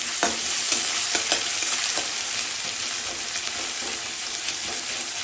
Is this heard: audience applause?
no